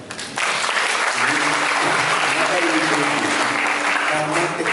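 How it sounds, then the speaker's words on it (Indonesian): Dense, steady audience applause at a campus launch of a digital psychology study program, starting abruptly after a brief quiet moment and continuing evenly with faint voices mixed in. "Tepuk tangan dong."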